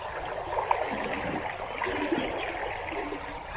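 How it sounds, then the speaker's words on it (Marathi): River water surges over a small village dam in rainy Konkan countryside, a steady broadband rushing roar heard from nearby, continuous and without talk. "बांध तयार केलेला आहे नदीवरती देवाच्या वाटेसाठी पाणी बघा मस्त जोरदार पाणी"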